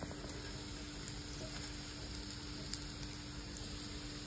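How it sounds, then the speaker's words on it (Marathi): Roasted grated bitter gourd sizzling in a pan with browned onion and garlic, a steady close, even frying hiss with faint stirring clicks throughout. "आता याच्यामध्ये हे भाजलेला कारल्याचा किस टाकूया।"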